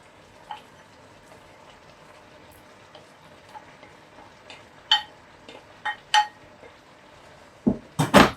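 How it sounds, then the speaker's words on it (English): Okra for okra soup being dropped into a cooking pot, scattered soft taps building to a cluster of louder clatters and scrapes near the end, close with a quiet background. "At this point, I'll be adding the okra"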